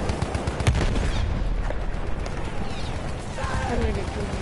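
Medic-class guns fire in Battlefield 1 as a dense, loud stretch of battle sound, with bursts of gunfire under players' talk and a busy background.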